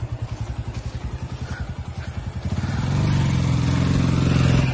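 A motorcycle rides on a road. A rhythmic, thumping engine beat pulses steadily, then merges into a louder, continuous drone as the bike picks up speed, close to the listener.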